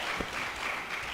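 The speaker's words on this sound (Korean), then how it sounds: "우리 영광의 하나님께 박수를 드리십시오" A congregation at a Sunday morning church worship service breaks into a brief round of applause. It makes a steady, even wash of many hands clapping, with no talking.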